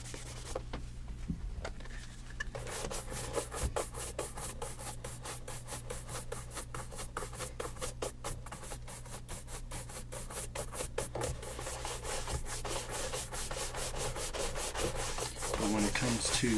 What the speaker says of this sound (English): when buffing it out, you want to use very light pressure